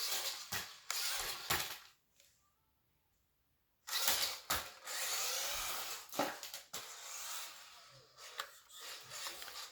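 A Tamiya Lunch Box Mini SW-01 RC truck drives in bursts, its small electric motor whining with scrabbling and rattling as it moves, several short pulses and then a longer run after a brief quiet gap, fairly close.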